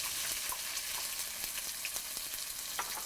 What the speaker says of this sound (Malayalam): ബാക്കിയുള്ള 2 തണ്ട് കറിവേപ്പില എന്നിവയിട്ട് നന്നായിട്ട് വഴറ്റിയെടുക്കുക.